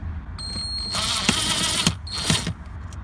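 A screw is backed out inside a Lexus LX470 / Toyota Land Cruiser during an alarm and remote start install, giving close, faint ratcheting clicks and scraping mechanical bursts.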